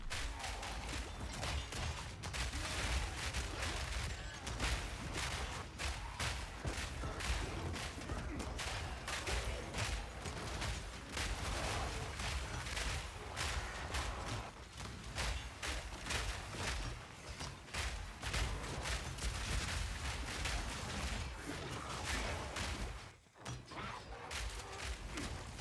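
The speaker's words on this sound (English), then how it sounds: "the explosive grenades and the mortar cannons" Explosive grenades and mortar cannons go off in Path of Exile, a dense, continuous barrage of rapid thumps and blasts that stays loud almost throughout, with a brief dip near the end.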